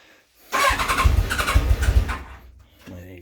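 A cold 1997 Kawasaki ZZR1100 D5 motorcycle with low miles and the choke on cranks and fires up, catching into a loud, rough, rising idle close by, then dropping away as a voice begins talking at the end.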